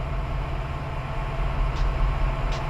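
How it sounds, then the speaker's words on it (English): Train rolling past in the Run8 V2 train simulator game, a steady low rumble with faint rail clicks, continuous and fairly loud throughout with no talking. "There's a train going by out of our window"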